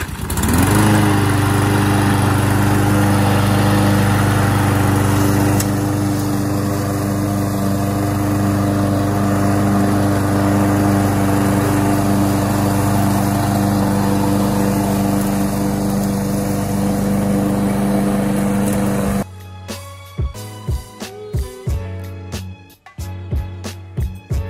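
A Yard Force 22-inch 3-in-1 rear-wheel-drive lawn mower runs steadily and loud up close with a constant engine drone, then cuts to a choppier, uneven sound near the end.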